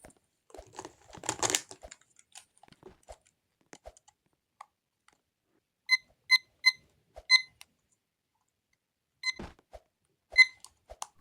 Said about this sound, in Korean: 타이머 소리임 오해 금지.